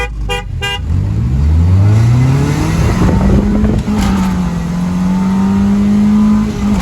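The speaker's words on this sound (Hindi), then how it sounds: "ले जी आखिरी रेस होने लगी है" A car revs hard at the start of a street race between tuned cars, and its engine pitch sweeps upward. A few short horn toots come first, then a loud, sustained engine drone runs close throughout.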